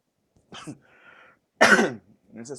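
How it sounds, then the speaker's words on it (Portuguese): Someone speaking Portuguese coughs sharply once in the middle, a strong morning cough, with softer throat-clearing sounds before and after it, close and dry in a quiet room. "eu estou com uma tosse muito forte agora de manhã"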